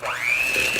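Cookie dough with an added egg and a teaspoon of vanilla being mixed by an electric mixer, a steady whirring whine that rises in pitch as it spins up and then holds level, close and alone for under a second.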